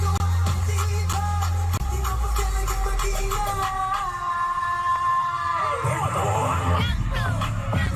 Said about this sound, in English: You can hear the crowd in there.